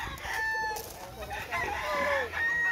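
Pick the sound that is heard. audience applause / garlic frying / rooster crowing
rooster crowing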